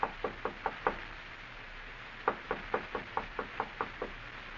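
Knocking on a door in a 1947 radio drama, two bursts of sharp, evenly spaced raps, five in the first and eight in the second, heard alone and clearly.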